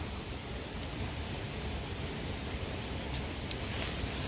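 Steady rain hisses evenly throughout, a dense wash of drops with a few brief sharper ticks.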